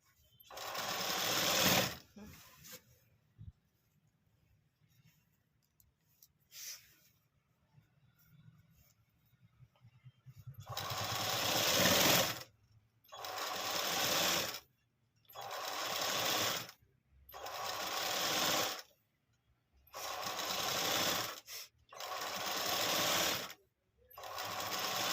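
An electric sewing machine stitches a ready-made top during an alteration, running in several steady bursts of a few seconds each with short pauses between, close by and fairly loud after a quieter start.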